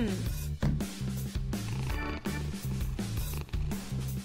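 A cartoon cat in a pet-care video game purring continuously, a soft rumbling loop blended under bright game music for a few seconds.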